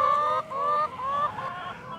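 Chickens clucking and squawking in a free-range egg farm shed housing thousands of laying hens, a dense, continuous flock chorus with overlapping calls close by.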